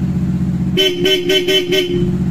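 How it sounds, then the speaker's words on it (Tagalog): Bosch Europa horn on a Honda ADV 160 motor scooter tooted in five quick, evenly spaced blasts over a low engine idle, loud and close. "Tapos yung busina niya na Bosch Europa na rin."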